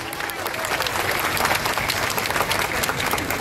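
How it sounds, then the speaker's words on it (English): A crowd applauds continuously and densely throughout at a Wesak Day celebration in Malaysia, with a few voices faintly mixed into the steady clapping. "let's give him a round of applause, please"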